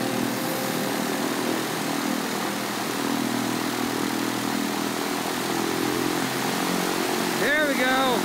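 A Piper PA28-140 aircraft engine runs at full throttle, a steady loud droning roar held throughout, with a brief voice-like sound near the end.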